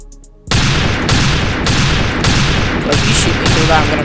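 Rapid bursts of gunfire from the Roblox Arsenal shooter game, loud and sustained after a quiet start, repeating in dense volleys of about four clusters with no speech over them.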